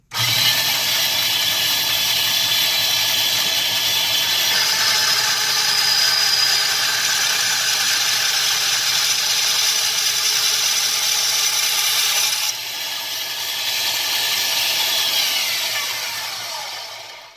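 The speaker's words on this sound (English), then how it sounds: "I'm going to go ahead and cut those on my mini bandsaw." A mini bandsaw cuts through stacked metal pieces for a jewelry pendant. A loud, steady, close whine runs unbroken for about seventeen seconds and drops slightly in pitch and level near the end, with no talking.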